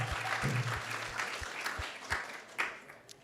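An audience at a devotional talk applauds, scattered clapping with a few louder individual claps standing out near the end.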